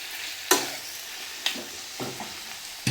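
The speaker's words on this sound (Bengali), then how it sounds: "সেই জন্য একটু বেশিক্ষণ নাড়িয়ে মিশিয়ে নিচ্ছি চিকেনের সাথে।" A spoon stirs spiced chicken in a hot pan, giving four sharp scraping strokes at irregular intervals over a soft continuous sizzle.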